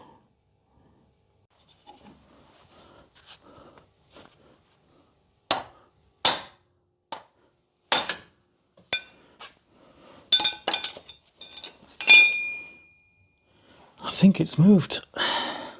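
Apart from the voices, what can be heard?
hammer and pry bar knocking a Rolls-Royce brake accumulator sphere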